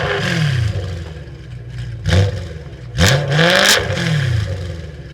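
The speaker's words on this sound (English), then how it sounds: "So this is an N54 engine." A BMW N54 engine idles loudly close by, then revs sharply in three bursts, each roaring up and dropping back to a rough, burbling idle.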